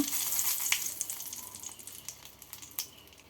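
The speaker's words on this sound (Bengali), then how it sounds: "ফোড়নে দিচ্ছি দুটো শুকনো লঙ্কা" Two dried red chillies crackle in hot oil left over in a kadai for a tempering, a bright hiss that fades gradually with a few isolated pops, close and without speech.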